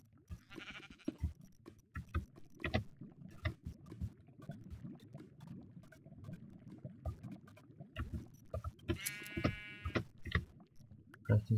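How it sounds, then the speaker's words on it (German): Sheep bleating in Minecraft, short wavering game bleats standing out twice over a busy background of clicks, footsteps and other game sounds. "Das Schaf würde sowieso gleich sterben,"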